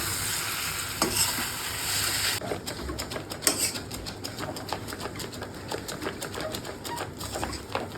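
Noodles sizzle and get stirred in a hot pan, a bright frying hiss broken by repeated scraping and clattering stirs that continue after the hiss drops partway through.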